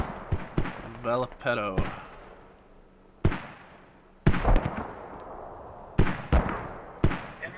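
Mortar rounds booming in the tactical shooter Squad during a competitive match, several sharp, loud thumps at irregular intervals with decaying tails, a commentator talking between them.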